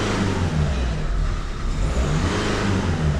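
A Renault engine with an upstream pressure sensor fault revs up loudly, a close, sustained roar that holds high and dips slightly before climbing again, with no talking.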